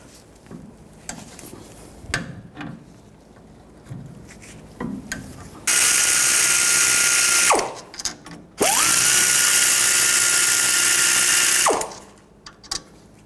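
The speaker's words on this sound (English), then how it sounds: "Take these two caliper bolts out. Use a 16mm socket." A powered impact tool with a 16mm socket spins caliper bolts out on a 2011-2016 Ford F350 Super Duty rear brake, with two long, loud whirring bursts between clinks and scrapes of metal parts being handled.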